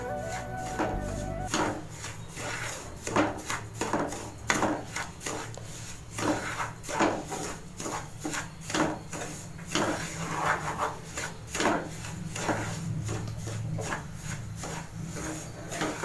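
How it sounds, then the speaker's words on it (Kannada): Semolina (rava) roasting in ghee in a pan for upma, stirred with a spoon in steady repeated scraping strokes, close and fairly quiet, with no voices. "ನಾನೀಗ ರವೆಗೆ ಹಾಕ್ಬಿಟ್ಟಿದ್ದೀನಿ ಹುರಿಲಿಕ್ಕೆ ತುಪ್ಪನ"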